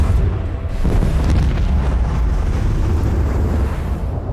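Ship weapons firing in the Warhammer 40k: Rogue Trader video game, a dense continuous rumble of booming blasts and roaring low-end noise that stays loud throughout with no pauses.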